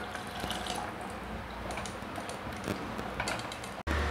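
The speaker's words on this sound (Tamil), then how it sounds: "கொஞ்சம் தண்ணி ஊற்றிக்கிறேன்." A little water is poured into a cooking pot of semiya (vermicelli) for milk payasam, a steady close splashing trickle with faint clinks, ending in a brief abrupt cut.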